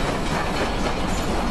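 A train rolls steadily along the rails with a dense, continuous rumble and faint clickety-clack, loud and close, with no voices over it.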